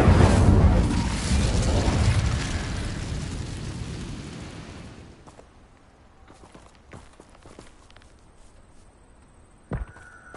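The Incendio fire spell cast in Hogwarts Legacy bursts into a loud roaring whoosh of flame that gradually dies away, followed by quieter scattered footsteps and small game effects.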